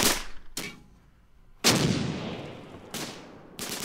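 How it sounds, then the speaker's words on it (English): Mortar fire in the Close Combat: Gateway to Caen wargame, several sharp, loud blasts spaced irregularly, each trailing off into a long fading rumble, with no talk. "I think it's mortar fire, actually."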